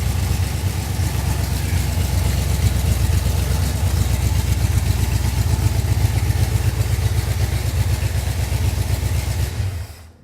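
A car engine runs at a steady, rough mid-pitched idle with a slight clatter, close and loud throughout, cutting off near the end, during timing setup after a rebuild.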